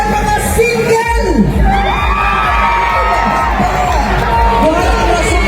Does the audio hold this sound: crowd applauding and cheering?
yes